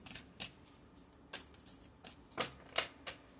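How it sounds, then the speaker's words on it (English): Tarot cards shuffled by hand at close range, a quiet run of soft riffling flicks and taps, about six distinct bursts at irregular intervals; no talking. "Now I'm gonna shuffle them pretty good because I just had the first reading."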